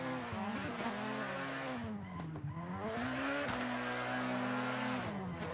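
Race cars, a Miata among them, running on track with a steady loud engine drone that rises and falls through gear changes, the pitch dipping and climbing again, with no pause in the motor noise.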